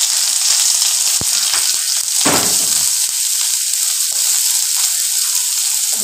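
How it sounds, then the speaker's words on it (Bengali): Onions hit hot oil in a home kitchen pan and fry with a loud continuous sizzle, broken by scattered pops and crackles and a brief stirring scrape in the middle. "তেলটা গরম হয়ে গেছে, এখন পেঁয়াজটা দিয়ে দিচ্ছি"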